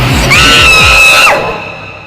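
A woman lets out a single loud, sustained scream lasting about a second, piercing and close, then fading out.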